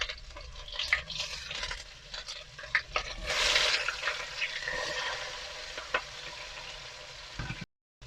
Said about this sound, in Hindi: ये जी इसमें अभी डाल दिया है टमाटर और मिर्ची। अभी इसको करेंगे फ्राई ताकि टमाटर गल जाए।